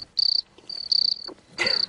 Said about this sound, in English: Playing crickets.